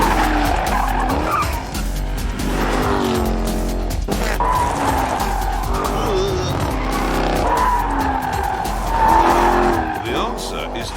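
Car tires skid and squeal with traction control switched off, a wavering screech riding over steady engine roar that lasts throughout, loud and close, with the pitch sliding up and down as the car slides.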